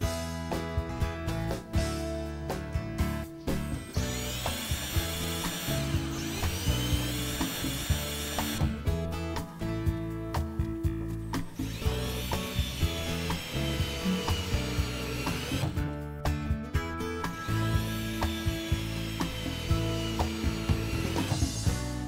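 Screws are driven into wall studs to fasten clips during a bathtub installation, a cordless driver whirring and ratcheting in repeated bursts, close and clear, with brief pauses between runs and no talking.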